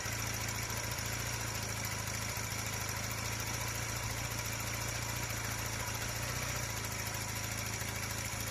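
A Honda CD175 motorcycle engine idles steadily just after starting, a loud, close, even mechanical drone with a regular pulsing beat and no talking.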